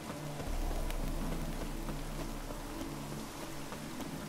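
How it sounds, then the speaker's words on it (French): Rain falling in the video game The Witcher 3: Wild Hunt, a soft continuous hiss of drops with a low steady rumble beneath, fairly faint and unbroken. "Bah, il va pleuvoir. je euh, il mouille déjà."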